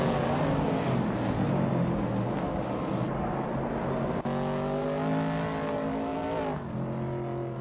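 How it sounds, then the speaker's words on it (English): Race cars driving in a racing video game, including a 1970 Plymouth Barracuda muscle car, with continuous loud engine drone, shifting revs and tonal engine whine that rises and falls throughout. "Unstabil is driving a 1970 Plymouth Barracuda, a classic muscle car"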